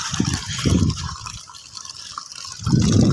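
Water runs into a tank at a pigeon-keeping spot, a steady watery fill with thicker surging bursts near the start and again louder at the end, heard alone and close.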